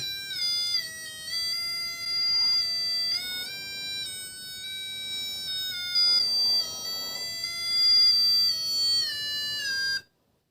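An MS6818 hidden wiring detector emits a continuous electronic tone whose pitch shifts up and down as it tracks a wire, steady and fairly loud, then cuts off abruptly at the end.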